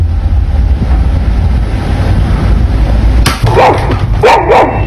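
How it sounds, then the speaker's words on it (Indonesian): A dog barks a few times in quick succession near the end, over constant loud wind rumble and background noise. "Anjing neneknya langsung menggonggong, seperti melihat makhluk yang gak bisa dilihat manusia."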